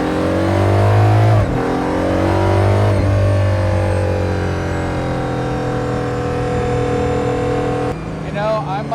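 Valkyrie Spider supercar driving in snow, its engine loud and close, revving with rising and falling pitch and steady high-RPM drone, a brief throttle lift near the end, with a voice talking over it.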